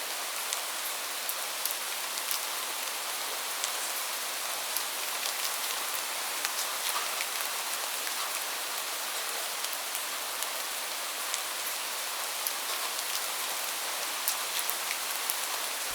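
Steady rain falls on a surface in an even, continuous wash, with scattered drops ticking through it for the whole stretch, fairly soft and with no voices.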